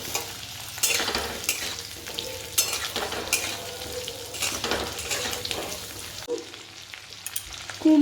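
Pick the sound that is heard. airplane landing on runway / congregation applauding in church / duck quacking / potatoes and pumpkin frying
potatoes and pumpkin frying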